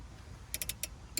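Tightening a brake caliper bolt on a 2016 Honda Civic EX gives a few quick, faint metallic ratchet clicks in a short cluster over a low background hum.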